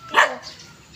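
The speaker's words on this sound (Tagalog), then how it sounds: "Daming aso." A single loud, close dog bark rings out during a neighborhood walk, then fades into quieter background noise and faint distant yelps.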